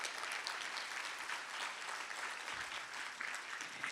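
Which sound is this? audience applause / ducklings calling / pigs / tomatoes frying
audience applause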